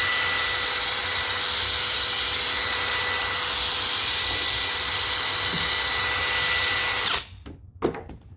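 A Makita XGT 40V cordless tool runs steadily at high speed, blowing a strong rush of air and scattering heavy wood chips, then cuts off abruptly near the end, leaving a few faint clicks and knocks.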